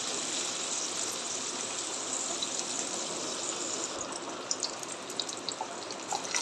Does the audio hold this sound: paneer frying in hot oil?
yes